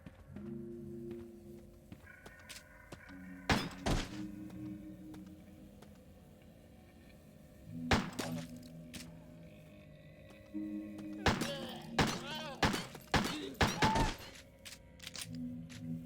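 Gunshots in the video game Crow Country: sharp loud bangs in small bursts, with a first pair, a single shot, then a rapid cluster, between stretches of quiet, tonal game ambience.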